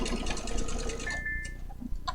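Domestic sewing machine stitching quilting loops, a steady rapid needle rhythm running close and loud for about a second before stopping, followed by a brief electronic beep and a click.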